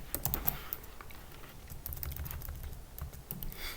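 Rapid keystrokes rattle on a computer keyboard while a Linux command is entered, a close, dense run of clicks with brief pauses and no talking.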